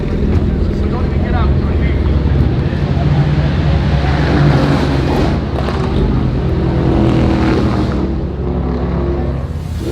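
A McLaren 765LT supercar doing donuts in the street, its engine a loud, continuous roar with rising and falling revs, heard close and steady throughout with no clear talk over it.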